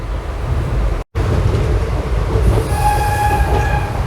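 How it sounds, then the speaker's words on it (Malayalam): A passenger train on the Puducherry Express (16862) route rumbles loudly and steadily close by, with a faint tonal whine rising over the noise in the second half and a brief dropout near the start. "ഒരു ട്രെയിൻ ഇവിടെ നിർത്തിയിട്ടിരിക്കുന്നു. സ്പീഡിൽ പോകുന്നുണ്ട്"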